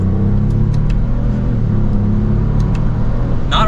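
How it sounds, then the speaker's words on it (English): A 2024 Lexus GX550 Premium Plus in sport mode, shifted with paddles from second gear, accelerating with a steady, loud, close engine drone that holds throughout, rising mildly without a sharp rev. "let's give it some gas."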